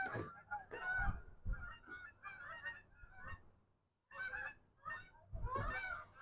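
An American bird, probably a goose, honks repeatedly in loud, close, brassy calls, in bursts with a short pause midway.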